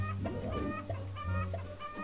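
Chickens clucking in a video game, a few short clucks and squawks repeating over a steady low game hum.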